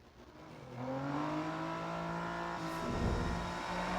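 A race car engine in the mobile racing game Need for Speed No Limits revs hard and climbs through the gears, its pitch rising in strong sweeps. A brief whooshing burst comes partway through, and the sound is loud and close with no talking.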